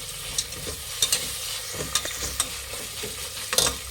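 Spoon stirring an avarekalu (lima bean) rice bath mixture with fresh mint in a pan, giving soft scrapes and occasional sharper clinks over a low, steady sizzle, close and moderately quiet with no voices.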